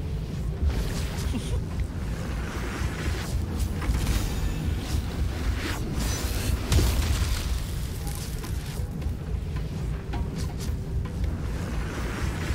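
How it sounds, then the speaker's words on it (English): Explosions in the fantasy video game Baldur's Gate 3 boom repeatedly and heavily, with several deep blasts and rumbling bursts spread across the stretch over a noisy game backdrop. "Oh, they exploded."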